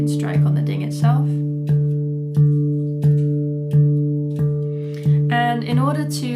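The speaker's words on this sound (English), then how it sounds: "Of course, you can strike on the ding itself." A handpan struck repeatedly on its central ding, each hit a bright, ringing, sustained tone about once per second, close and even; a voice speaks briefly at the start and near the end.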